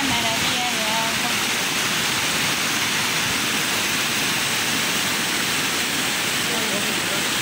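A loud, unbroken rush of flowing water beside a trail on the Camino de San Lucas, close and dense like a cascading stream, with a brief murmur of voices early on.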